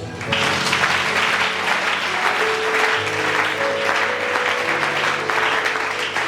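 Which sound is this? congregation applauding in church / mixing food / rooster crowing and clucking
congregation applauding in church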